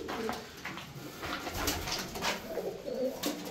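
Pigeons coo inside a farm loft, repeated soft throaty calls from several birds overlapping nearby, with scattered faint clicks and rustles around them and no talking.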